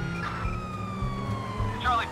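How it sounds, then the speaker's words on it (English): Police siren in the video game GTA 5 wails steadily at moderate level behind engine and traffic noise, rising and falling in pitch, with a voice talking over it. "Siren back on."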